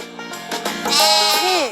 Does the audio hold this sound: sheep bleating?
yes